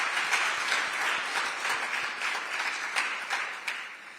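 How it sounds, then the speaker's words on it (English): An audience at a state cannabis training academy launch event applauds steadily, a dense wash of many hands clapping at moderate distance, fairly soft and continuous with no talk over it. "So let's give another big round of applause for everyone that is here today."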